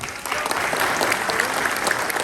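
At a mayor's New Year greetings ceremony in Pomponne, an audience breaks into steady, even applause, a dense wash of hands clapping for the new director general of services, with little else heard.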